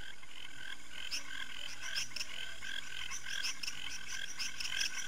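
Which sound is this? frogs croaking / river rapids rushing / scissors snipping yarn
frogs croaking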